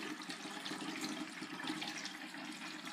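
Water pours steadily into a spray bottle of apple juice brine for meat, a constant close splashing trickle that runs without pause and without voices.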